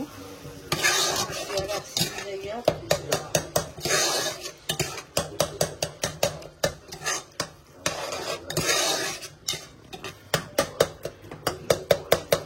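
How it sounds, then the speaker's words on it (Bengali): Masala spices sauté in a pan under a steady sizzle, with rapid, loud, rhythmic scraping and clanking of a metal spoon against the pan, close up and continuous, with no talking. "দেখতে থাকো মশলা কষুক"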